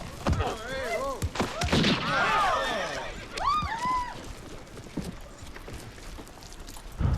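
A horse neighs repeatedly in rising and falling whinnies, mixed with hoof clops and thuds, fairly close.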